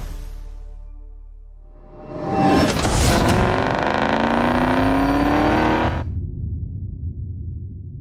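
A Ford Mustang Mach-E electric car drives past with a loud, sustained synthetic drive sound that rises steeply, holds for several seconds with a climbing tonal whine, then cuts off abruptly, leaving a low hum.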